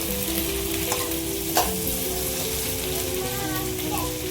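Garlic, tomatoes and dried red chillies sauté in a pan with onion for a Tamil fish curry, a steady close sizzle and frying hiss with faint stirring clinks throughout.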